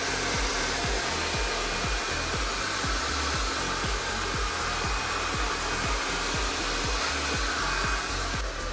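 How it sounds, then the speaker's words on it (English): A hair dryer runs continuously with a steady, loud whooshing airflow while blow-drying a pixie haircut, occasionally shifting slightly in tone as it's moved around. "I'm going to take my blow dryer"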